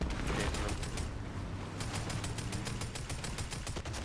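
Rapid bursts of gunfire from computer-controlled bots in a multiplayer shooter video game, a fast rattling volley that keeps going loud and steady throughout.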